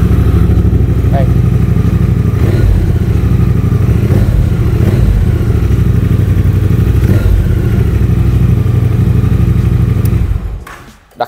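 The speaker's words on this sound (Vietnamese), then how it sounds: "Anh em muốn nghe thử tiếng máy xíu nha" A Triumph Bonneville Bobber 1200cc twin with an aftermarket exhaust idles loudly up close, a deep steady throb that runs unbroken for about ten seconds before cutting out abruptly.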